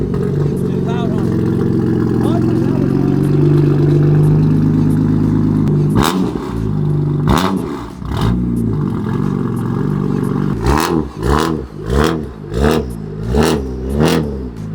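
A car engine idles loudly and then revs hard several times in quick bursts, with a deep rumble between revs and some voices over it.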